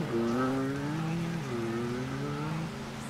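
Car engine revving in GTA Vice City, a droning motor whose pitch rises and falls in several throttle swells, steady and close throughout.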